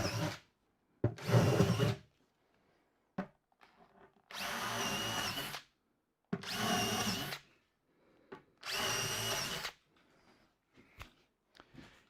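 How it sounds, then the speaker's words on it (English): A handheld power drill bores holes in wood in a workshop: four or five separate bursts of whining motor and bit noise, each one to two seconds long, separated by quiet pauses with small handling clicks. "I'm going to drill a couple of holes in that one"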